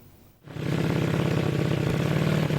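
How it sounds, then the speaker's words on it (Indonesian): A drag bike motorcycle at a regional drag race championship roars into a loud, steady, rattling engine drone after a short quiet start, close by and without talk. "Geberan dan kecepatan yang dihasilkan peserta drag bike ini memukau ribuan penonton yang memadati arena"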